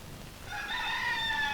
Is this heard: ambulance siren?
no